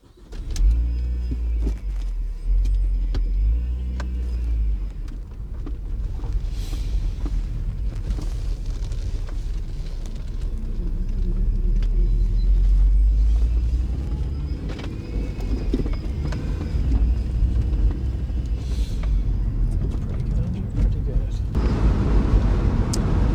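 A MINI Cooper S John Cooper Works R52 convertible drives along with a steady engine drone and road rumble throughout, interior and wind noise layered over it and the engine note rising toward the end.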